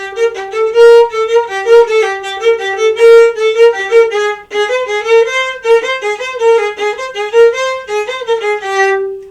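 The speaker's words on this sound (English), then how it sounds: "You will also hear a choppy skeleton dance that sounds like this." Bright, choppy orchestral music from Saint-Saëns's Danse Macabre, a skeleton dance with short detached notes bouncing in a quick, jerky rhythm, loud and continuous throughout.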